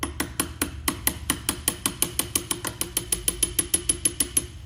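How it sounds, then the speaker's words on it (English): Hammer tapping a gun part clamped in a vise, about twenty-five sharp metallic taps in a fast, even rhythm, close and clear with no talk. "Take your hammer"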